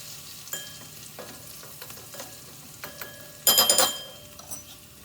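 Crushed garlic cloves and green chili frying in a pan: a faint, low sizzle with a few scattered utensil taps, then a sudden louder burst of crackling sizzle that fades away, close by with no talking.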